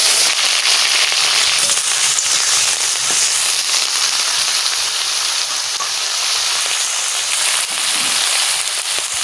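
Prawns sizzling and spitting in hot mustard oil, a loud, steady, close frying hiss with crackling pops that runs unbroken throughout.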